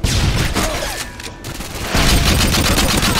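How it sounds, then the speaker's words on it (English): Heavy gunfire and explosive grenade-launcher blasts from the video game Modern Warfare 2, a loud continuous fusillade of rapid shots and booms with no talk over it. "This guy with a grenade launcher."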